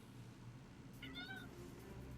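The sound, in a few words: cat meowing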